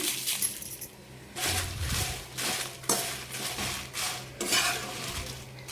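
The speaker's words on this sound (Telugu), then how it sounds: "ఇదే బాండీలో ఇప్పుడు ఎండుమిర్చి కూడా వేసుకోవాలి." Dried red chillies are tossed and stirred in a kadai, producing repeated bursts of metal scraping and rattling with a faint sizzle underneath, separated by short pauses.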